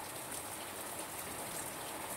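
Steady rain falls outside, a dense, even hiss of drops with no breaks, heard from a short distance and fairly soft.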